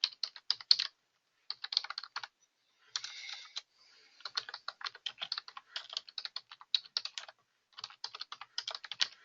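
Quick bursts of clicking keystrokes on a computer keyboard while a PL/SQL program is typed, coming in short clattering runs separated by brief pauses, close and fairly quiet, with no talking.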